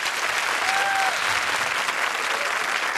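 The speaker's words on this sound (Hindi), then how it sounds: "मैं चाहूंगा इनके लिए ढेर सारी तालियां होनी चाहिए।" Audience applause at a comedy show, a dense, loud, sustained clapping from a large crowd throughout.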